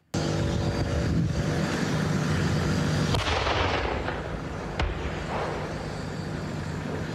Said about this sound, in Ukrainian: Ось це кадри справжнього танкового бою із окупантами посеред спекотного українського степу.